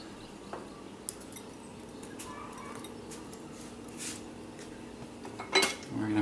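Breadfruit pancake batter being stirred in a bowl with a utensil, soft scraping and scattered clinks of metal against the bowl, close and quiet, with a louder clatter near the end.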